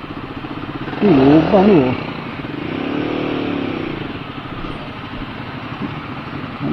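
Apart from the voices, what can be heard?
Guerrilla 450 motorcycle engine idling at a traffic light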